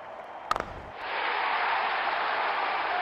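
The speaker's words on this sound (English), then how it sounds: "Crowd going mad here." Crowd noise in the cricket video game Real Cricket 20 swells into a sustained roar of applause after a few sharp taps, holding loud and steady to the end.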